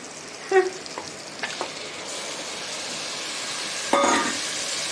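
Tomatoes cooking in a pan for mutton curry, a steady close sizzle and hiss, broken by a few clinks of a utensil against the pan, with no talking.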